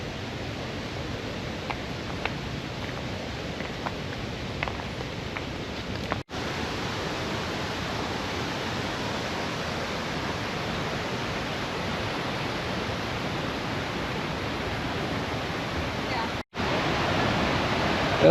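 Kalmandvi waterfall on a rocky monsoon trail near Jawhar, a broad continuous roar of rushing, falling water filling the whole scene, loud and close with no letup, interrupted only by two brief dropouts.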